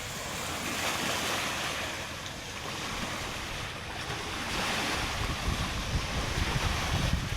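Strong northeast monsoon wind blows across the sea off Palawan, a steady roar of gusts buffeting the microphone over crashing surf and waves, loud and continuous throughout, growing heavier toward the end.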